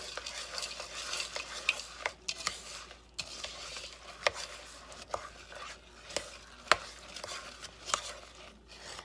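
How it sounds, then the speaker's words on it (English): Gray stuff, a Disney-style cookie and pudding dessert mix, being stirred and lightly folded in a bowl, with soft scraping swirls and occasional sharp clicks of the utensil against the bowl, close and fairly quiet. "And give that a stir and mix lightly"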